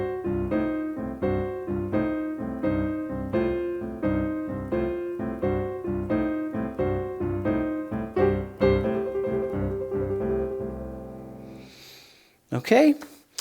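Blues piano plays a four-bar boogie-woogie riff pattern, steady rhythmic chords and rolling bass notes repeating bar after bar, loud and close, ending with a held note and a brief noise.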